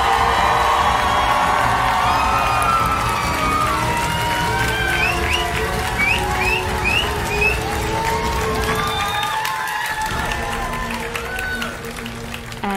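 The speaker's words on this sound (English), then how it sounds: "Give them one more big round of applause," A crowd at a cosplay championship applauds and cheers loudly, with whoops and shouts over sustained clapping, filling the room and tapering slightly near the end.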